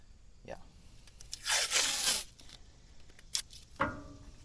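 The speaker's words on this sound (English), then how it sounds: "I just use some painter's tape. I'll wrap it around, stick it to itself" Painter's tape is pulled and torn in a few short ripping bursts, with crinkling in between as it is wrapped around a hose on a John Deere excavator, close up.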